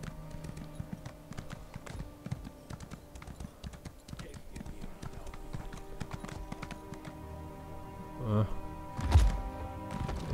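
Steady clip-clop of a white horse's hooves in The Elder Scrolls Online, with music and a soft thump or two; the hoofbeats run evenly throughout at moderate volume.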